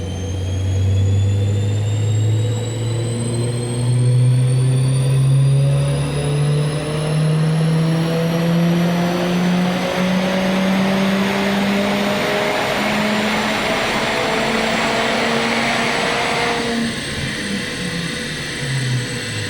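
A Mercedes-AMG A45 S engine fitted with a RaceChip tuning module revs steadily upward through the gears on a dyno power run, loud and close, each pull rising in pitch before a brief drop, then climbing again.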